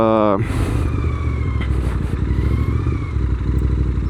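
A Royal Enfield Interceptor 650 motorcycle riding along in third gear, its steady engine drone and road rumble running under a rider's ongoing talk.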